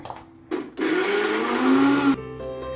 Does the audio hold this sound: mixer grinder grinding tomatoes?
yes